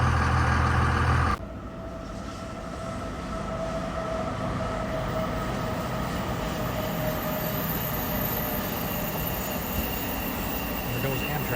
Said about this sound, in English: There goes Amtrak.